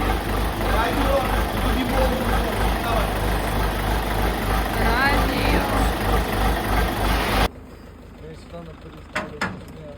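A truck engine idles loudly and steadily with a low pulsing rumble and voices over it, then cuts sharply to a much quieter stretch with a few faint knocks.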